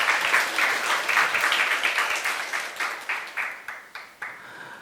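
A church youth congregation claps in unison during a sermon, producing a string of sharp, evenly spaced group claps that slow and thin out toward the end.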